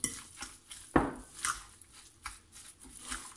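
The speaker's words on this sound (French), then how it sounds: "Là, je vais mélanger rapidement." A spoon mixes baking powder and flour into a tuna and zucchini fritter batter in a bowl: soft, quiet clinks and scrapes in a loose rhythm, one sharper knock partway through, close by and without speech.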